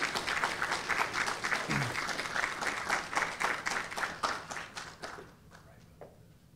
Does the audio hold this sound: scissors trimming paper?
no